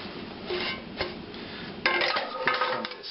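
Pieces of camping cookware clatter and clink as they are shifted about, with several sharp metallic knocks and a busier cluster of rattling near the end, close and moderately loud.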